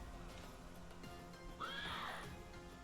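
A horse in a video game battle gives a brief, shrill whinny partway through, over a busy layer of game noise.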